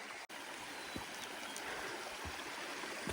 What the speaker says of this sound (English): Cross our first little creek.